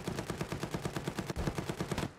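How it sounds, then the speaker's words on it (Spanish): Rapid bursts of gunfire in the video game Farlight 84 crackle in a steady automatic rhythm, loud and continuous, with one sharper crack partway through. "Oigo tiros."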